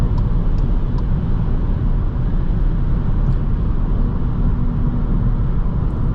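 Inside a Škoda Fabia 1.0 TSI on the move, a loud, steady roar of tire and wind noise fills the cabin continuously, a dense low rumble with no voices.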